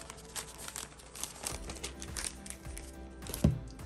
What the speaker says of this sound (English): Go ahead and put this back inside the plastic here.